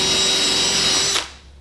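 A power drill spinning at roughly 1,800–2,000 RPM while polishing an automotive surface, a loud steady high-pitched whine that cuts off abruptly near the end.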